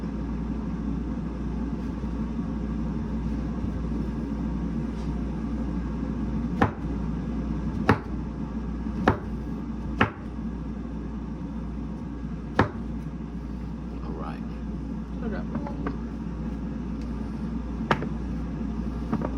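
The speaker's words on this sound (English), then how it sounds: "So we're going to go ahead and start chopping them up." A kitchen knife chops mushrooms on a board in a home kitchen, sparse sharp single knocks spaced a second or more apart over a steady low background hum, with no talking.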